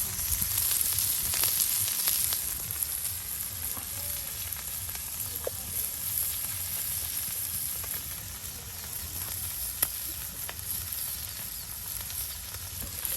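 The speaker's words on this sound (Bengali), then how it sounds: "আর এই যে এখন কাঁচামরিচ গুলা ভাজা নেওয়া হইতেছে" Green chilies fry in hot oil in a home kitchen, giving a steady, even sizzle with a crackling hiss that carries on unbroken, close up, with no talking.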